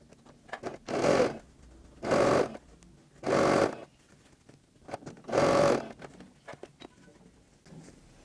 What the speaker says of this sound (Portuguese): E vou passar um pezinho de máquina, começa com retrocesso e termina com retrocesso